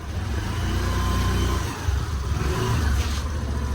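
A car engine runs steadily at close range with a low, rumbling tone that swells and eases slightly as the vehicle is maneuvered into place to park, with no voices over it.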